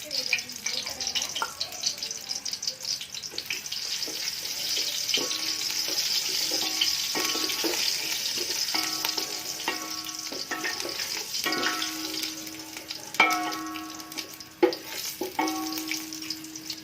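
Cumin seeds crackle and sizzle in two to three tablespoons of hot oil for a chana chaat dish, a steady broadband fizz with sharper pops and clinks of a utensil scattered throughout, close and continuous.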